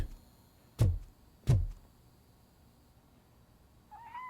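A cat in the Robocop Rogue City game lets out two short, loud meows about a second apart, followed after a pause by a fainter, higher rising call over low background hum.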